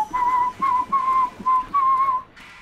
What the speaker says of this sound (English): start whistling The Farmer and the Dell